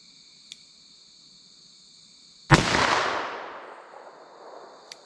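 A single sharp report from a .357 Magnum handgun firing hand loads at a 75-yard range cracks loudly and decays over about two seconds, with insects chirping steadily around it outdoors.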